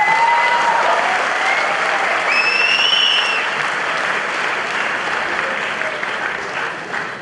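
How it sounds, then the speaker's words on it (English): Audience at the APOGEE 2013 talk claps steadily and loudly throughout, a dense wash of applause with a few faint whistles, tapering slightly toward the end. "admit that you guys have never clapped for water before"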